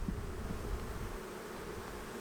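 Honey bees buzz steadily inside an open hive during an inspection with drone brood present, a soft, continuous low hum that stays faint and even throughout.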